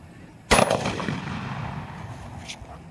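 A Diwali patakha toy gun fires a firecracker cap with one sharp, loud bang that rings and decays, followed by a fainter pop about two seconds later.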